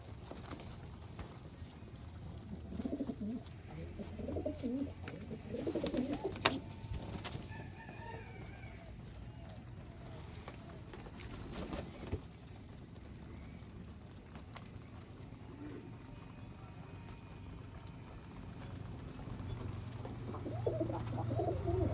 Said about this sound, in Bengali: আমার গ্রিবাজ কবুতরগুলো অনেক ডাকাডাকি করে